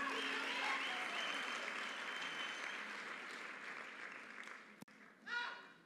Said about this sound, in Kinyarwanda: Twongere dukomere Imana amashyi.